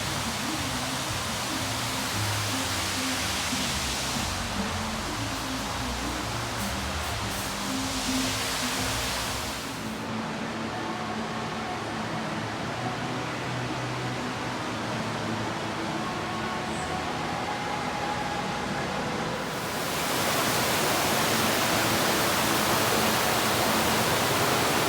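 Water pours steadily from a fountain at the Wynn hotel in Las Vegas, a continuous broadband rush that stays loud and even throughout, with a slight dip in the middle stretch before swelling again.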